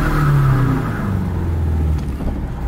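BMW E36 engine running rough on only two cylinders, revving loud and close with a low uneven drone that dips and rises, no talk over it.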